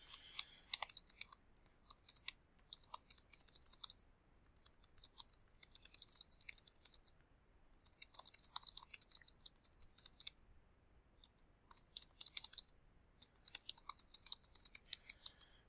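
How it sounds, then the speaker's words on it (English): Typing on a computer keyboard, quiet rapid key clicks coming in bursts with short pauses between, close by and alone. "I'll just quickly type something up for the Saginaw Horsemen."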